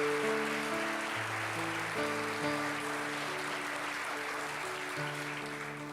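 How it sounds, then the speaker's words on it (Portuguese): A Baptist church congregation applauding for the Lord, a soft, steady wash of clapping that fades slightly toward the end, under sustained keyboard or organ chords. "Uma salva de palmas para o Senhor."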